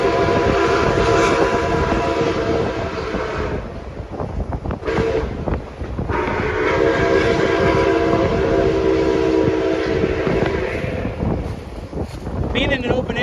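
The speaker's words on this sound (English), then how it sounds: "it's good to hear the whistle a lot better actually" A steam locomotive whistle, NKP 756, sounds loud and close from an open-air car in long sustained blasts, with brief gaps, over rumbling rail noise and wind buffeting.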